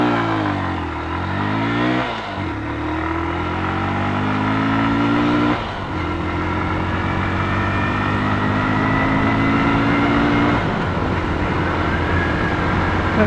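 Bajaj CT 110X 2025 motorcycle, a 115 cc commuter bike, pulling away in first gear, its engine note climbing steadily and dropping at gear shifts, close and fairly loud throughout without speech.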